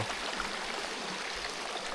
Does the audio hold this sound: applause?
no